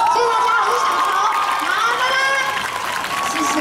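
Audience applause and some cheering at an outdoor music festival by a Taipei metro station exit, a steady dense patter lasting throughout, with a voice speaking over it.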